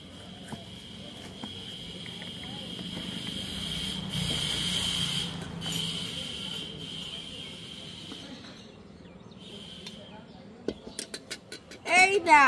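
Cups and dishes clink softly while tea is poured and served at a small tea stall, with a few sharper clatters near the end, all under steady conversational chatter and low background hiss.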